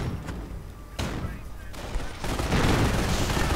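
Riflemen fire at an immobilized Panzer IV in a WWII strategy game, with a few sharp separate shots giving way to a dense, continuous burst of battle noise, likely under commentary.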